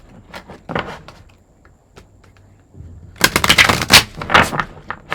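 Tarot cards being handled and shuffled, with soft scattered flicks and taps at first, then a loud dense riffling burst of cards close up.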